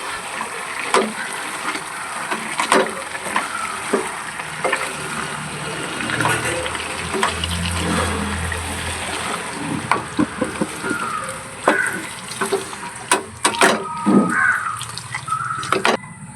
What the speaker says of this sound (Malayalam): നന്നായി ഇളക്കി കൊടുക്കാം.